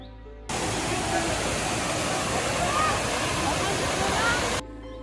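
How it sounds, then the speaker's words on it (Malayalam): Vattayi monsoon waterfall near Thrissur, a dense, steady roar of heavy falling water heard up close, starting abruptly and cutting off near the end. "കുണ്ടൂക്കാട് എന്ന ഗ്രാമത്തിലുള്ള വട്ടായി വാട്ടർഫാൾസിലേക്കാണ് നമ്മുടെ ഇന്നത്തെ യാത്ര"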